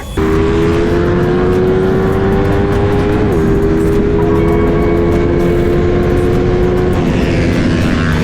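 A motorcycle engine revs hard at a racetrack in Surat Thani, Thailand, with a loud continuous high-pitched drone that climbs, dips briefly, then holds steady and close for several seconds before fading, with no talking.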